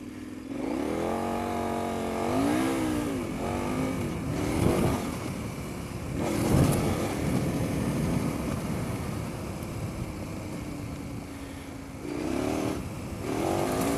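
A KTM Adventure R 1090 motorcycle being ridden, its engine droning steadily with rising and falling rev sweeps as it accelerates and shifts, mixed with continuous wind rush, close and sustained.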